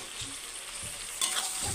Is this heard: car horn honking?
no